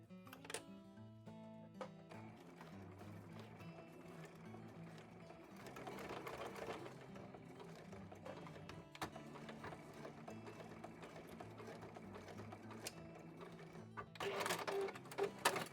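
A sewing machine runs steadily, tacking a fabric pouch made from scrap fabric 5 mm from the edge, with a dense mechanical whir, a few pauses and a louder burst near the end.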